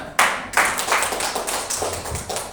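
Applause breaks out at a small gathering, a short burst of clapping from a group that starts sharply and carries on steadily at close range without any voices over it.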